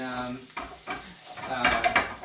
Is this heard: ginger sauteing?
yes